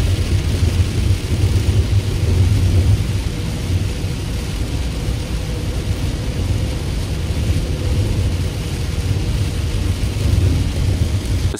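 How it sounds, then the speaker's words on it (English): Heavy rain during a thunderstorm, heard from inside a vehicle driving through a mountain pass, a dense continuous roar with low rumbling and road noise throughout, no voices. "I was caught in a storm that seemingly came out of nowhere"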